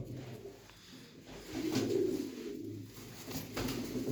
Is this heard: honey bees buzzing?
no